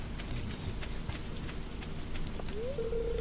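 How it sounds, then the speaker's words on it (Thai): Steady rain patters in the farming game Stardew Valley, a dense soft hiss with scattered drops throughout, joined near the end by a short rising tonal chime. "โอ้ฝนตก"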